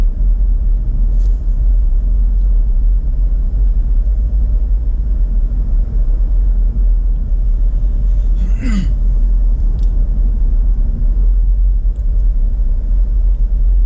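Car driving northbound on the M-29 highway in Michigan, a steady low road rumble from inside the cabin with a brief faint squeak partway through.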